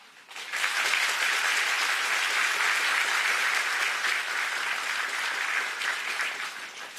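Sustained audience applause at a Korean justice minister's inauguration ceremony, steady and dense clapping from a large crowd that swells quickly and holds for several seconds before easing slightly.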